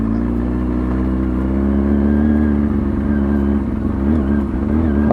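A motorcycle engine idles along at slow speed with a slight roll on the throttle, a steady mid-pitched hum that rises gently in tone midway and wavers near the end, with no talking.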